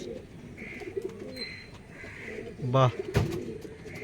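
Andhra breed pigeons coo softly in a loft, a low rolling call repeating under a voice, with a brief louder flutter or clatter near the end.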